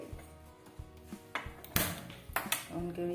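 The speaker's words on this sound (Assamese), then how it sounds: "এয়া কেৰাহীটো পাতি দিছো।" A metal kadai set down on a gas stove, giving a few close clanks and ringing metallic knocks scattered over about three seconds, with faint hiss between them.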